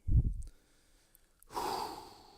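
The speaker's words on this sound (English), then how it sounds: "I always do this style of breathing. Helps me focus, helps me clear the head." A weightlifter does focused breathing before an axle hold, starting with one forceful exhale and then, after a pause, drawing a long, steady breath close to the mic.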